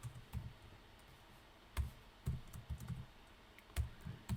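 Scattered clicks and short bursts of keystrokes from someone typing code on a computer keyboard, quiet and close, with pauses between brief runs of typing.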